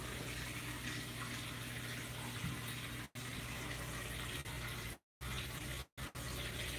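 Water runs continuously through a saltwater aquarium filtration setup and its skimmer, a steady rushing flow broken by a few short dropouts.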